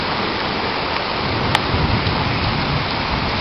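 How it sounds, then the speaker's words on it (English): Heavy rain pours down in a steady, dense roar during a loud thunderstorm, close and constant with no one talking. "I've never seen rain this fucking strong."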